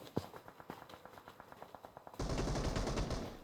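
Gunfire in the mobile game PUBG Mobile: a steady run of rapid, evenly spaced automatic shots, then a sudden dense burst of louder, overlapping gunfire filling the last second and a half, with no talking.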